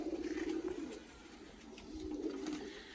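Pigeons in a breeder's loft of about 35 birds, white and mixed-colour, coo in low rolling bursts that fade and return, with soft rustling and chatter-free background hiss throughout.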